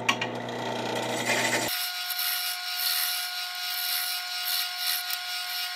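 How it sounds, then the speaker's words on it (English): Steady, loud rasp of a gouge cutting a spinning olive wood slimline pen blank on a lathe, continuous from start to finish, with a sustained motor tone under the scraping. "I'll use the roughing gouge, and then I'm going to use the spindle gouge"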